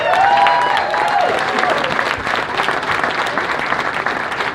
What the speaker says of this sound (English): I'd like to get a round of applause for Mr.